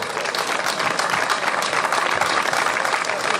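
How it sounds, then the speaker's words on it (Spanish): Dense, steady applause from an audience at a motorsport hill-climb award ceremony, a continuous wash of many hands clapping at even loudness throughout. "Forte ese aplauso, forte ese aplauso"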